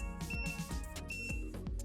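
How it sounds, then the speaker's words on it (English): Oscilloscope beeping, a few short electronic tones over a low background hum, faint and close. "the beep, it's a bit annoying,"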